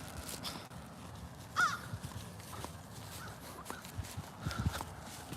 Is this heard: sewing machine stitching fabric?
no